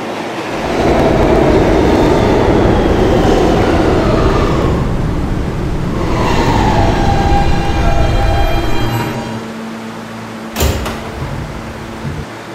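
An R160B Siemens E train on the 5th Avenue Lines rolls loudly through a Roblox subway, with a steady roar of wheels on rail, rising whines and squeals from the motors and brakes, and a sharp clunk near the end.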